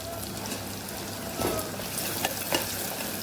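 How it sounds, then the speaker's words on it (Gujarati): Garlic chutney with turmeric and coriander-cumin powder sautéing in a pan over low gas, a steady close sizzle with brief stirring scrapes and no talk. "લસણવાળી ચટણીને સરસ આપણે સાતળી લેવાની છે"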